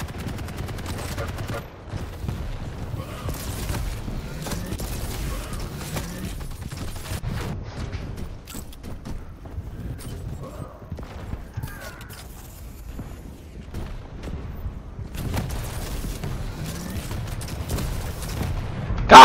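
Gunfire from a weapon in the Quake video game cracks out in repeated bursts, scattered shots over a rumbling background, with a voice talking in between.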